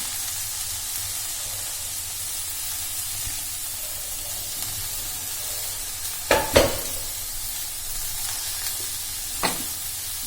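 Moringa leaves hit a hot pan for a vegetarian lunch, giving a steady close frying hiss with a couple of sharp louder crackles partway through and a brief one near the end.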